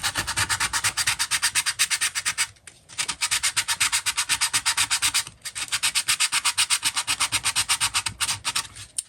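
A wooden carving of the Liberty Bell quarter is sanded by hand in steady, rapid back-and-forth strokes, close and loud, in three long runs split by brief pauses, with no talking.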